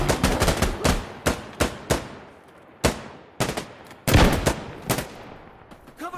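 Rapid bursts of gunfire in Insurgency: Sandstorm, sharp close shots in quick clusters with short pauses between volleys, loud and alone without talk.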